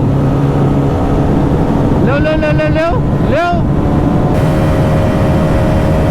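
Bajaj Pulsar 220F and RS200 motorcycles accelerating in fourth gear: a rising engine whine that climbs in pitch twice, heard through heavy wind rush from a moving mount, with brief talk.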